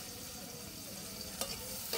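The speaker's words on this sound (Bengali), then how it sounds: "এখন বাগার চলতেছে" Onion, garlic, chilli and leaves tempering in hot oil in a home kitchen, giving a steady close sizzle and frying crackle that runs the whole time, with a brief stirring scrape partway through.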